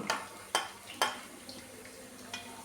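Ginger and garlic sautéing in a pan, with a few distinct stirring scrapes and clinks against a quiet sizzle, sharp strokes spaced about half a second apart, then softer movement.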